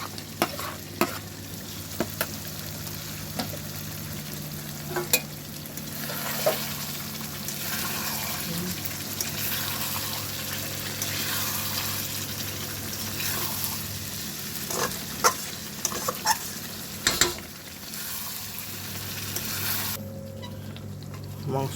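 Chopped tomatoes sizzling and frying in a pan with chicken being cooked down, steady sizzle with repeated scraping stirs and occasional clinks throughout, a voice speaking quietly at times.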